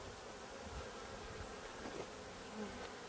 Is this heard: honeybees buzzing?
yes